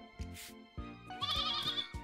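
A baby goat in the video game Story of Seasons: Pioneers of Olive Town bleats a few times in quick succession, high and thin, with a brief clatter before it; no talking.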